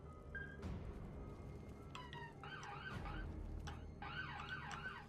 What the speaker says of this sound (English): Hopefully you guys can't all hear that siren that's going past